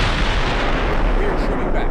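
A battlecruiser's naval guns fire in Ultimate Admiral Dreadnoughts, a loud, dense boom that rumbles and rolls through the whole short stretch with no clear break.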